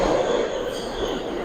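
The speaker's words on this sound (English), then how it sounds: "We have a train coming in on the other side" A New York City subway train pulls in on the far side of the 23rd Street R/W station platform, producing a loud, continuous rumble and roar of wheels and cars filling the station.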